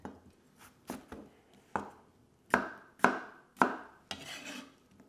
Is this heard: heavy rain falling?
no